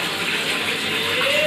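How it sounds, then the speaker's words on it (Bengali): A little water poured onto radish greens with garlic and nigella seeds before grinding: a steady, close, hissing splash of running water that lasts the whole moment. "সামান্য জল দিচ্ছি।"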